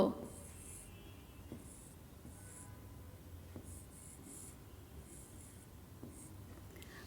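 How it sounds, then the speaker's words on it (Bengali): Pencil strokes scratching on paper in a classroom writing lesson, a series of short faint bursts in irregular rhythm with quiet pauses between them and soft background noise. "চলো আমরা সবাই লিখে ফেলি মুগ্ধ"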